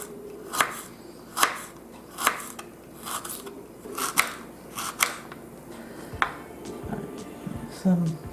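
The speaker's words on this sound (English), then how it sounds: "The radish I will cut pretty thin slices." Kitchen knife slicing a radish into thin slices on a cutting board, a steady series of crisp, evenly spaced chops up close, with faint background noise.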